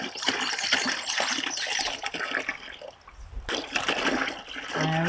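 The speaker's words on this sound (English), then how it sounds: "my helper is going to pour a gallon of warm water into the" A gallon of warm water poured from a jug into a 5-gallon bucket, a steady, close splashing gush that briefly dips and then resumes, with faint voices in the background.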